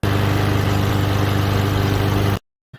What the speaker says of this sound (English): Let's get the engines revved.